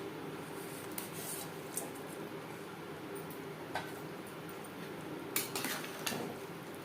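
Fried koi fish goes into simmering gravy in a metal pan, giving a few faint scattered clinks and scrapes of utensil on pan over a quiet, steady background.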